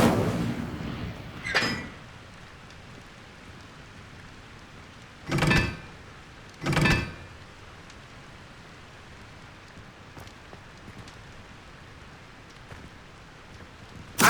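Three short whooshing bursts of the Incendio fire spell in Hogwarts Legacy, each a quick flaring rush separated by quiet ambient gaps, with a faint click at the end.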